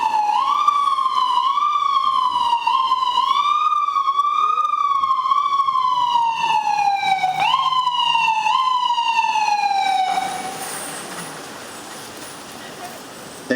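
An ambulance siren from the Montclair Ambulance Unit wails loud and near in a rising-and-falling yelp pattern, shifting pitch partway through, then cuts off, leaving quiet background noise.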